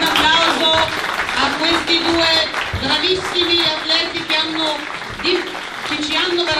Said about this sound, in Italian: Un applauso a questi due bravissimi atleti